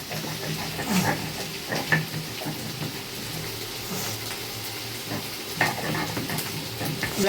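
Ginger stirred and fried in a pan for a vegetarian dumur (fig) dish, giving a steady sizzle with scraping stir strokes at intervals, close and moderately loud, with no talking.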